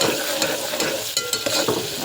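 Mushroom masala with green chillies sautéed in a pan, a short burst of close, loud sizzling punctuated by quick scraping stir strokes, without speech.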